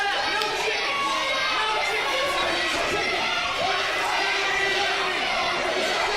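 A crowd at an intergender tag-team wrestling event shouts and chatters continuously, a dense, loud wash of many voices with children's yells rising through it.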